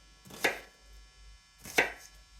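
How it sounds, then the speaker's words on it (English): Two crisp knife chops through food on a cutting board, about a second apart, each a sharp close thud with brief silence between, cutting pieces down to size before a food chopper. "So you just want to cut it down to size. So I usually will cut it down like this."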